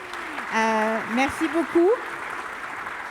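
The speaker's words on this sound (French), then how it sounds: "Je vous demande de les applaudir parce que j'espère que c'était très complet." Audience at a conference applauding at the close of a talk, a diffuse background of clapping beneath a voice that speaks over it.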